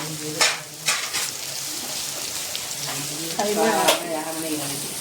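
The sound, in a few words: frying mutton keema with chili, turmeric and salt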